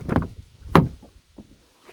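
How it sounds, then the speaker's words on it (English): A 2021 Chevy Suburban Z71 door opens with a brief mechanical clunk, followed by a sharper latch thud and a few faint soft knocks nearby. "When you open the door"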